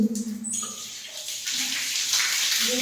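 Water runs and splashes close by while shampooed hair is rinsed, a steady wash that swells louder partway through, with no talking.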